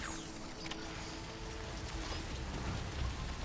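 Rain falls steadily in the video game Death Stranding, a soft, even hiss of drops on surfaces, faint and continuous with no voices over it.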